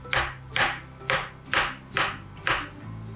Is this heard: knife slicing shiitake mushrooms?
yes